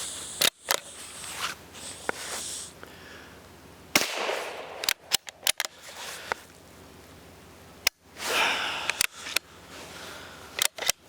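Sharp, loud rifle shots from a Savage 93 Gen 1 .22 WMR with a Vortex scope, about a dozen cracks fired in quick irregular bursts with short pauses between, nearby and without talk.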